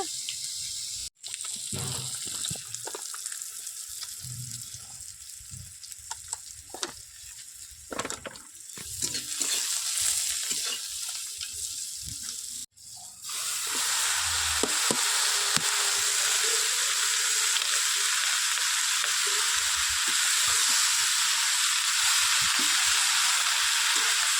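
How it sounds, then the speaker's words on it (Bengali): Salted fish sizzles and crackles as it fries in a pan, a steady broadband hiss broken by stirring and clatter, growing louder and denser partway through as frying intensifies, with no talking. "নোনা মাছ ভাজা হচ্ছে"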